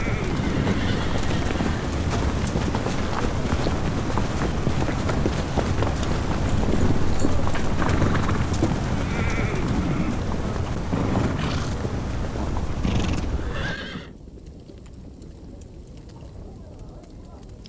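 A horse whinnies while its hooves clop in a dubbed action TV series scene, loud and close, with wind-like noise around it, then cutting to a much quieter, muffled stretch near the end.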